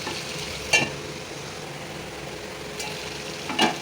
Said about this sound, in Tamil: இது ஒரு ரெண்டு நிமிஷம் நல்லா ஃப்ரை ஆகட்டும்